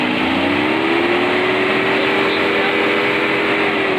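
A Mercedes-Benz W124 300E's inline six-cylinder M103 engine runs steadily and loudly throughout, a constant mechanical drone with a rising whine layered on top.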